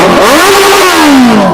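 A Honda CBR 650R motorcycle with an aftermarket exhaust revs hard and close, its loud throaty exhaust note climbing then falling away.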